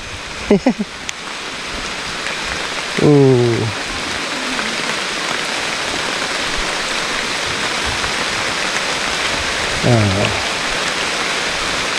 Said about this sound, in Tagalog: kanina lakas ng ulan at ngayon paulan na naman